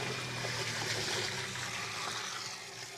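Water running steadily, a continuous soft trickling wash drawn for cooking a large batch of potatoes for sweet potato shōchū, fairly quiet and unbroken throughout with no talk.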